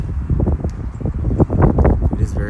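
Gusty wind buffets the microphone with loud, rumbling noise throughout, with some indistinct rustling mixed in.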